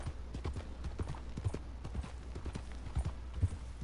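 Rhythmic clip-clop of horse hooves trotting at a steady pace in a video game, close and clear, with faint background ambience.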